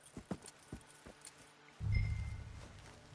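Horses in Red Dead Redemption 2, with a few sharp, well-spaced hoof clops on hard ground, then a short stretch of low, rumbling movement and snorting. The sounds are fairly faint and no one speaks.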